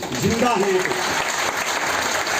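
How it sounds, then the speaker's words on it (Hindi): Audience applause at a business seminar in Faridabad, a short dense burst of clapping heard under a speaker's amplified voice near the start. "तो तालियां कर लें अपने लिए।"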